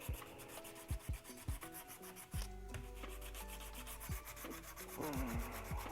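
Wood being sanded by hand during a craft project: steady, close scratchy rubbing strokes repeat in a loose rhythm, with a tonal background hum or music running underneath throughout.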